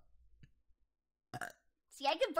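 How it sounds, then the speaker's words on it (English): A short, rough burp rises near the end after a quiet pause, preceded by a brief vocal sound; no talking. "Hold up, let me burp on command."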